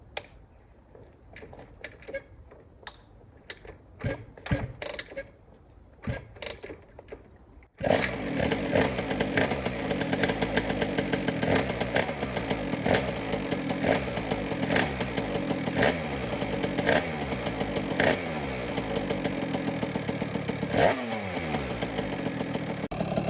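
Cold motorcycle engine cranking and catching with the choke on, first sputtering intermittent bursts, then suddenly firing into a loud, steady high idle that runs continuously with a slight clattering edge.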